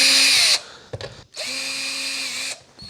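Power drill boring pilot holes for a Stratocaster bridge into a guitar body: two bursts of high whining motor noise, the second about a second long, separated by a brief clunk and pause, close up and without speech.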